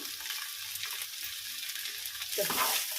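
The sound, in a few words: rice frying with salt and turmeric in a pan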